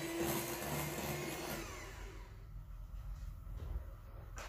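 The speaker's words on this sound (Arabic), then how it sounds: "وغادي نضربو حتى يندمج ياغورت مع الخليط" An electric mixer whirs steadily as it beats yogurt into cake batter, a loud continuous motor drone for the first two seconds before easing into a softer, rougher churning.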